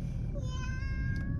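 A child imitates a cat's meow with one short, rising-and-falling tone, heard close over the low rumble of a moving car.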